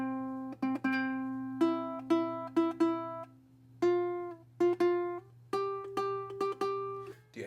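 A ukulele plays the intro tab of a song as a clear, close melody of single plucked notes, ringing one after another in a steady, unhurried rhythm over a faint background hum.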